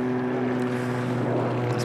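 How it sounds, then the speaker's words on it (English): Airplanes pass overhead near a waterfront boardwalk at sunset, a steady distant engine drone with a low hum that fills the whole moment without pause. "Those planes are overhead."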